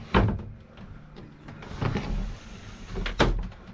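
A sliding saloon door on a yacht is pulled closed, giving a few distinct thuds and a rolling slide along its track, close and fairly loud.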